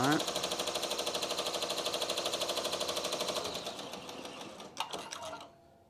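An embroidery machine runs a rapid, even chatter of needle strikes while sewing a tack-down stitch over appliqué fabric, then slows and trails off with a couple of clicks before stopping near the end.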